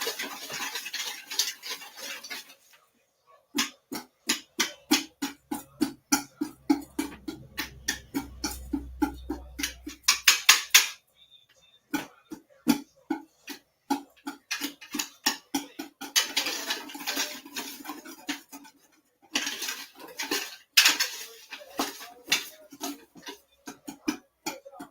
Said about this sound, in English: Next, we whisk our dry ingredients together.